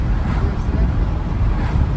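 A VW Passat's engine and exhaust roar while driving, a loud, steady low rumble mixed with buffeting wind noise throughout.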